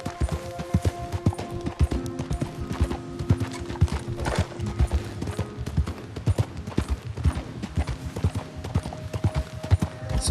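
Horse hooves from Red Dead Redemption 2 clip-clopping in a steady trotting rhythm, close and clear, with faint creaks and ambient tones behind the hoofbeats throughout.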